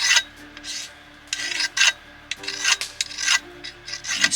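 A file rasps along the flat side of a chainsaw bar to take down a burr on its outer edge, in short scraping strokes with brief pauses between them, close and fairly quiet.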